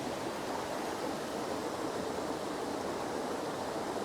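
Steady broadband rush of a waterfall at a landscape photography spot in the rain, a continuous even roar filling the whole stretch with no voices.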